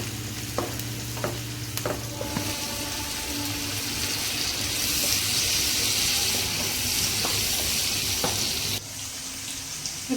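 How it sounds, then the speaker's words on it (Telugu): Chopped onions and green chillies with a little turmeric fry steadily in a pan, a continuous close sizzle with a few stirring clicks and scrapes, no talking. "ఆనియన్ దోరగా వేగించుకోవాలి"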